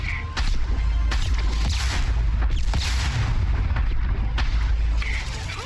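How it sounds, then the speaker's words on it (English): A sniper rifle in the video game Mass Effect 2 fires heavy, booming shots. Several loud blasts come one after another at an uneven pace, each with a deep rumbling tail over dense game sound effects. "time to see if this sniper rifle packs it"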